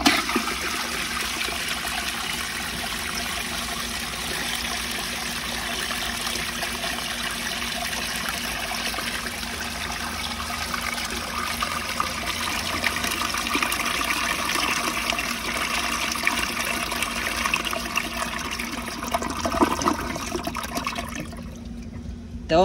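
An American Standard Cadet space-saver toilet flushes on a partially clogged bowl, giving a continuous rushing, gurgling drain that holds steady for about twenty seconds and then cuts off abruptly.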